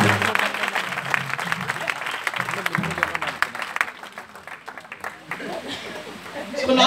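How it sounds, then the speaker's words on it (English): A crowd at an all-night church prophetic service claps rapidly and continuously for several seconds while voices talk and call out over the applause. "Oh, clap unto the Lord."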